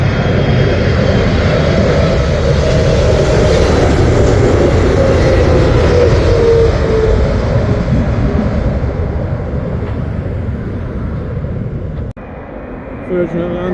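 Turkish Airlines Boeing 777 landing at Heathrow, a loud, steady jet engine roar passing close by that tapers off toward the end, with a voice speaking briefly over it.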